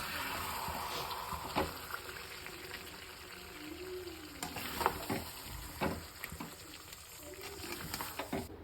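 Mutton pieces with potatoes and fat sizzle in hot oil, a steady broadband frying hiss with scattered clinks and stirring knocks from a spoon, close and moderately loud throughout.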